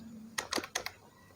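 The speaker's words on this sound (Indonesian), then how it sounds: "Kita ketikkan lagi print, kemudian dalam kurung tipe, print dalam kurung tipe A." Fingers typing on a computer keyboard, a quick burst of four or five close, crisp key clicks, then quiet.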